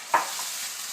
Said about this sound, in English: Now I'm going to add the tomato puree to this,